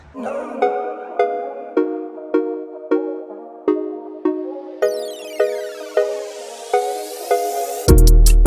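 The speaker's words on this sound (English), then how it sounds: "The dog crying." A dog's whining cry repeats in an even, steady rhythm, about a dozen times, before a rising swoosh and a loud crash at the end.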